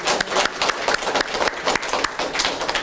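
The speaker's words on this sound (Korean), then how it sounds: "박수 한번 합시다." Church congregation applauding at a small church's anniversary service, a dense burst of many hands clapping close and loud for a few seconds.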